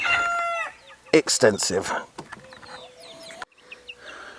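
Chickens in a homestead chicken pen cluck and squawk loudly up close, with a rooster-like crow and brief bursts of calls, as someone speaks between them.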